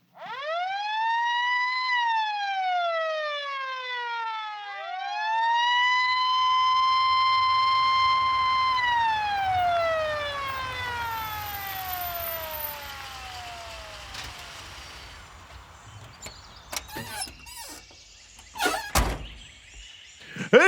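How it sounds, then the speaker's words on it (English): A sheriff's police car siren wails loud and close, rising and falling in long sweeping cycles that fade off toward the end, where a few sharp thunks and knocks break in. "He waits a few blocks and then turns on his sirens,"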